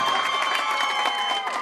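Applause from a crowd of wedding guests at a Kazakh celebration toast, steady dense clapping with cheering mixed in, loud and sustained throughout.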